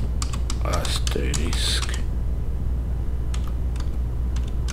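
Computer keyboard typing a script filename during an Asterisk 16 and FreePBX 16 installation: a quick burst of clicking keystrokes for about two seconds, then a few sparse taps, with a voice briefly speaking.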